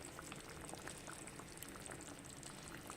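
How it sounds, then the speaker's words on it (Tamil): Mango fish curry simmering on low heat in a pot, a steady soft bubbling with small scattered pops, close and quiet, no voices. "இப்போ ஒரு 10 நிமிஷம் தீயை நல்லா சிம்மில் வச்சு கொதிக்க வைங்க"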